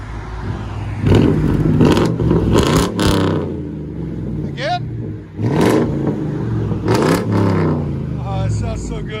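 A straight-piped V8 Ford Grand Marquis revs loudly nearby in several deep, rising bursts with a rumbling idle between them, while people talk over it.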